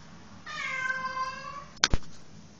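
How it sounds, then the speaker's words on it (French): A house cat meows nearby, one long drawn-out tonal cry, followed by a couple of sharp knocks or thumps close to the microphone. "Ah, mon chat vient de rentrer."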